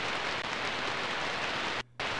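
Heavy rain pours down outside the entrance of Sparky's Bar in the video game Dreamweb, a steady, dense hiss that cuts out briefly near the end before resuming.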